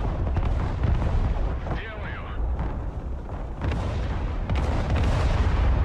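Artillery fire rumbles in the Broken Arrow combat game, a dense run of heavy booms and explosions rolling continuously over a battlefield, loud and close throughout.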